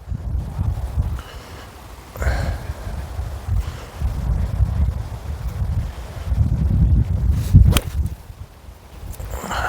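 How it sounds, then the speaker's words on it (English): Strong wind on a golf course buffets the microphone in low gusty roars that rise and fall across the whole stretch, loud and close with brief rustling bursts and no talk. "The wind is going left to right quite heavily."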